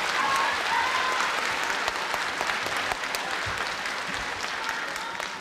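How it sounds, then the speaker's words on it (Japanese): An audience applauds steadily and loudly throughout, celebrating a film director on opening day at the Marunouchi Toei movie theatre in Japan. "じゃあどうぞもう一度皆さんでお祝いの拍手をお願いします。"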